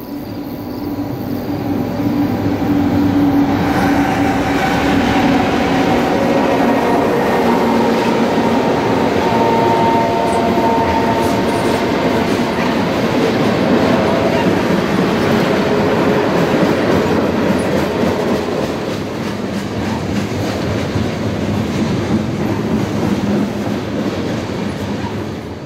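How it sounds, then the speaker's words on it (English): CSX freight train led by B20-8 and SD50-2 locomotives passing eastbound by a rail yard in North Baltimore, Ohio: loud continuous rumble with rhythmic wheel clatter and traces of squeal, close throughout. "this B20-8 and SD50-2, are leading east past the yard at North Baltimore"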